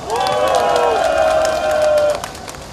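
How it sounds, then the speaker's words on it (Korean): Crowd at a Jeonju rally for democracy and intelligence-agency reform claps and cheers loudly and steadily, with a sustained voice or tone carrying over the noise before the applause thins out near the end. "격려의 박수 한번 부탁드립니다"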